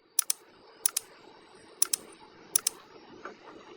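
Typing a name and roll number on a keyboard while joining a Zoom meeting: four quick pairs of crisp, close key taps spaced evenly apart, with faint clicks near the end.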